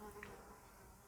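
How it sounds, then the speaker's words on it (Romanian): A bee buzzing indoors inside a house, a faint, thin, steady drone heard briefly and alone at low volume. "Deci este o albină la mine în casă."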